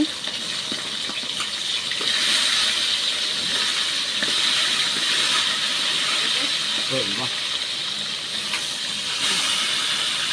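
Green chilies and onions fry in a pan for biryani in a home kitchen, a steady, fairly loud hiss and sizzle lasting throughout, with a voice speaking over it.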